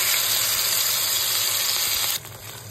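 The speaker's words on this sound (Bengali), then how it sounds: "তেল গরম হয়ে গেছে, আমি এর মধ্যে গ্রেভিটা দিয়ে দিচ্ছি।" Gravy poured into hot oil for a paneer dish sets off a loud, steady broadband sizzle that hisses continuously, then drops somewhat quieter near the end as the liquid settles.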